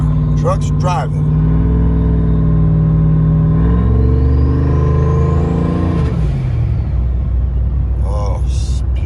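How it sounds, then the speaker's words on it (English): A lifted Ram 1500 with a Hemi, six-speed and turbo drives along, its loud engine droning then rising through a long upshift-like sweep before settling, with a voice briefly heard over it at the start and near the end. "truck's driving"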